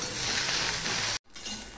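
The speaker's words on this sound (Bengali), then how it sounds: "প্রথম দিকে হাই হিটে ভাজবো, তারপরে পরে মিডিয়াম টু লোতে দিয়ে দেবো।" Okra (bhindi) fries on high heat in a pan, a loud, close, continuous sizzle that cuts out abruptly for a moment before resuming slightly quieter, with no talking.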